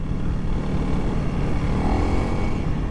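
Honda CRF300L non-ABS dual-sport motorcycle cruising on a rocky gravel road, a steady, loud engine drone with wind rush that holds constant throughout, no voices.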